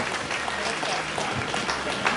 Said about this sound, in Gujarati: આપણે સૌ એમને તાળીઓથી વધાવીશું